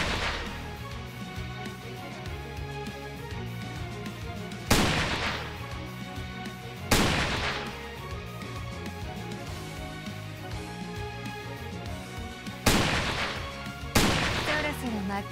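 Sniper rifle fire for the Snowowl character in the video game StarWard: four sharp, loud single shots spaced several seconds apart, each with a brief ringing tail, over a continuous bed of game music and ambience.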